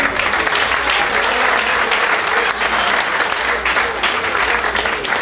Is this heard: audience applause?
yes